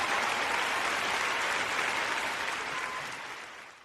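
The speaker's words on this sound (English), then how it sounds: "Clap it up, clap it up, clap it up." Audience clapping for a guest at a gospel awards interview, a thick continuous wash of hands that holds steady, then slowly thins and fades toward the end.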